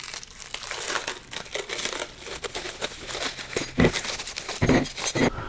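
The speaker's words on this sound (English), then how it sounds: "Let's get it unwrapped." Close, continuous crinkling and tearing of packaging as a Mac Tools wrench set is unwrapped, with irregular rustles and a few louder crunches near the end; no one speaks.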